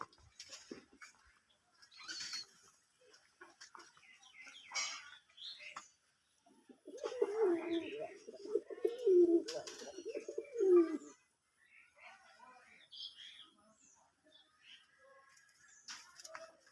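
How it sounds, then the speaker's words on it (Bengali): Soft, repeated pigeon coos from a pigeon coop under a jackfruit tree in a low murmuring rhythm, with other faint bird calls and light background rustling. "একটা কবুতরের দাপসি বানিয়ে দিয়েছিলাম ওটার ভিতরে কবুতর পালন করে"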